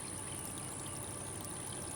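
Rainwater running off homestead land on a seven-acre property, a steady, continuous pouring and trickling rush of water close by, with no voices.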